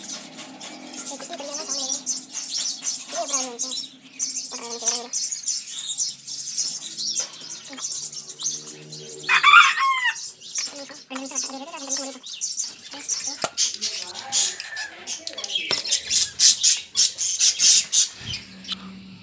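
Pet cockatiels and budgies chirp and tweet in bursts throughout while eating, with quick repeated calls close by and a person talking over them.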